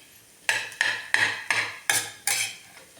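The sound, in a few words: stirring and sautéing chutney in a pan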